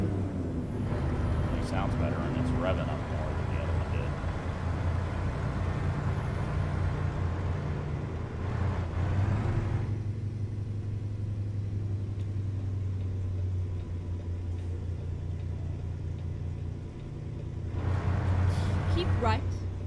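A Kenworth T680 truck's Paccar M11 engine drones and revs steadily, rising in pitch, with a loud hiss like an air brake and talking heard inside the cab.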